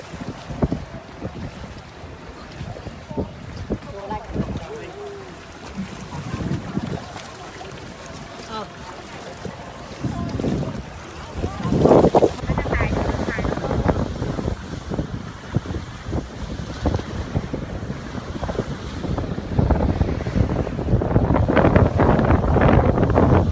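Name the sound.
strong wind on a boat at sea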